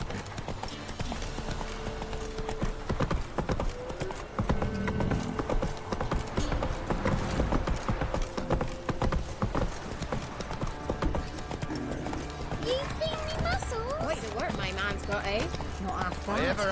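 Roach, a horse in The Witcher 3, trots with steady, loud clip-clop hoofbeats throughout, over dense game music and ambience, with a brief whinny-like sound near the end.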